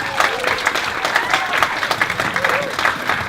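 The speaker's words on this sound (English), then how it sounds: "huge round of applause to Kenny" Wedding guests at a golf club give sustained, lively applause, dense clapping filling the room with a few voices cheering within it.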